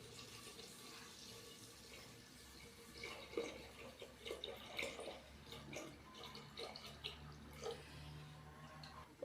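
A paste of besan mixed into lassi is poured into a masala pan for village-style aloo kadhi, giving a faint, soft liquid sloshing and gurgling that stays quiet throughout.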